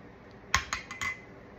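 A spoon stirring sugar into tapioca gives a few quick, close clinks and scrapes against the container, three or four taps in under a second, then quiet.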